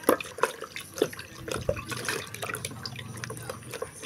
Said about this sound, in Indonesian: kita tuangkan santannya langsung saja diaduk lagi